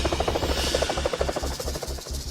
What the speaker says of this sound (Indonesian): itu suara formasi jet tempur